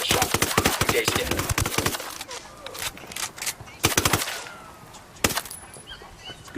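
Rapid bursts of automatic gunfire in the video game Ghost Recon Wildlands, sharp loud cracks in quick clusters separated by brief pauses, with a little background game noise.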